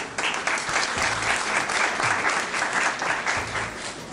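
Audience at a business forum applauding sponsoring civil engineering and construction companies, a dense, even wash of many hands clapping, loud and sustained for the whole stretch.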